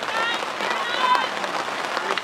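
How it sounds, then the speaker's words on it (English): Rain patters steadily on surfaces at an outdoor quidditch grand final between the Melbourne Manticores and UNSW Snapes on a Plane, a dense continuous hiss with crowd murmur and voices underneath. "Oh, rain."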